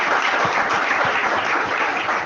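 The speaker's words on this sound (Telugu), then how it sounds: "ఎంతమంది చప్పట్లు కొడతారు?" A church congregation claps during a sermon, with steady dense applause from many hands filling the room at moderate loudness and no voices over it.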